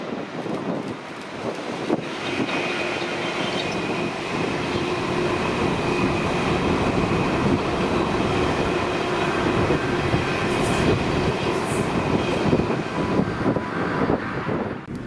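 A freight train of Alcan tank wagons from North Blyth to Fort William, hauled by class 66 locomotive 66741 near Bilsdean, rumbles past steadily and loudly for the whole stretch, with clattering wheels and some wind buffeting on the microphone.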